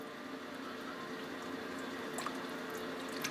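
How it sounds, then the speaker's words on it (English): Steady bubbling and sloshing of liquid in a pressure cooker as ribs are stirred through it, a continuous close wet churn with faint clinks near the end. "So go ahead and just give it a good stir, just to give it all a good little loosen."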